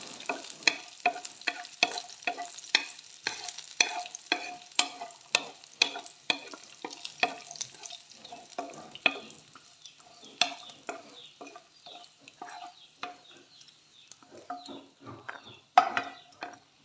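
Black raisins warm in a pan and are stirred constantly, giving rapid, close ticking and light scraping. The sound is dense and rhythmic at first, then grows sparser with scattered clicks. No talking.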